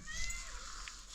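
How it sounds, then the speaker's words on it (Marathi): A cat meows faintly at home during cooking, giving a short, soft call over low background noise. "मांजर आलाय कोणाचं तरी."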